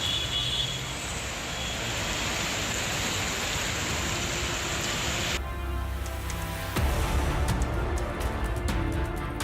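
Heavy monsoon rain pours over a waterlogged Delhi neighborhood, a dense, constant hiss of water that shifts partway through to closer, sharper drips and splashes; no voices are heard.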